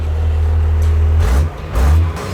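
A hot rod engine idles slightly high, a loud, close, steady low rumble that dips briefly and then returns. No voices are heard.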